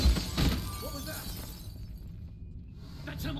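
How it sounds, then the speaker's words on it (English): Glass shattering in Dishonored 2, a sharp crash at the start that breaks into scattered tinkling debris before fading into quiet room tone. "I hit the glass."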